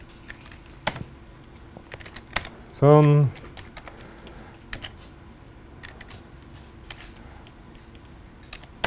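Computer keyboard keys click in scattered taps during a university lecture, with a short tonal beep in the middle and a lecturer speaking briefly nearby.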